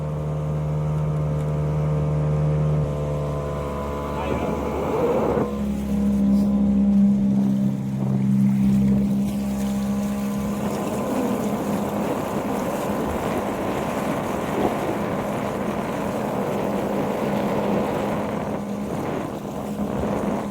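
A boat engine drones steadily while the boat cruises on water toward a mangrove forest, a loud, close, continuous hum with wind buffeting the microphone and no talking.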